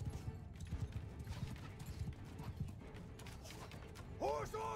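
Horses of mounted horse archers in Bannerlord, a rapid clatter of many hooves at middle distance ending with a clear whinny, faint battle noise and voices mixed in.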